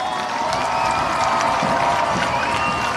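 Home crowd cheering at the end of a USL League 2 soccer match between Des Moines Menace and Peoria City on Fan Appreciation Night: a broad, sustained roar of cheers and clapping.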